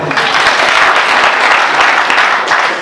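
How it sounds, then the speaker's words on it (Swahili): Loud, dense applause from a crowd, steady clapping filling the whole stretch without pause. "Kwa hivyo mama mpatieni makofi."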